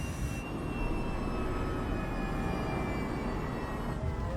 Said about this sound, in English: Then finally the plane begins to slow.